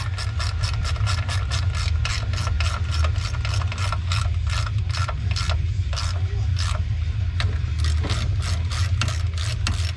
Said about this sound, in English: just torque these down right where it's at